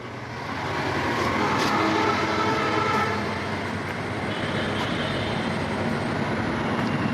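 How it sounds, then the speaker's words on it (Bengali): The red-and-green Chitra Express train departs in Bangladesh with a loud, continuous rumble of rolling stock that swells early and then holds steady throughout. "এবারে আর কি আমাদের এই চিত্রা এক্সপ্রেস ট্রেনের রওনা দেওয়ার পালা"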